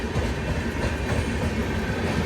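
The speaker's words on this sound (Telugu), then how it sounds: "ఒక ట్రైన్ అయితే పోతుంది ఇక్కడ, దక్షిణ్ హైదరాబాద్ టు నిజాముద్దీన్." Dakshin Express passenger train from Hyderabad to Nizamuddin rolling past close by, a loud, steady roar of wheels on rail with rhythmic clatter throughout.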